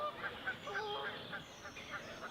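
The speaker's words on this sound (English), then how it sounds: "You can hear the geese settling in," Geese honking in a loose series of short, nasal calls as they settle in for the evening, moderately close, with a soft steady background hush.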